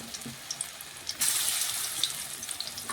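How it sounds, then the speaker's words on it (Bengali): Small balls of moong dal fritter batter drop into hot oil, then a sudden broad sizzling hiss rises and holds steady, soft and close, with faint pops scattered through it. "এখন ছোট্ট ছোট্ট বড়ার আকারে আমি তেলের মধ্যে দিয়ে দিচ্ছি"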